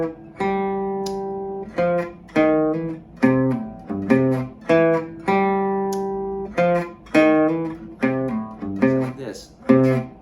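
A gypsy jazz guitar plays a bouncy, swinging riff, short plucked notes and quick runs, lively and up close with no accompaniment.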